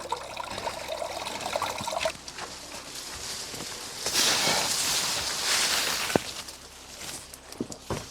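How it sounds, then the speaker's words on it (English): Water is poured over a bonsai forest, trickling and splashing onto the soil in a couple of close, uneven bursts, with a brief knock in between. "Give it a bit of water."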